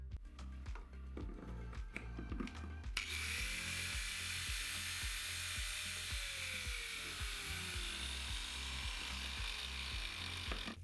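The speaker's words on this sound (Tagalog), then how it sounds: "Ngayon, subukan natin ang angle grinder." An angle grinder running on inverter power spins up after a few seconds into a steady, loud high-pitched whine with rushing noise, continuing without break over a low rhythmic background hum.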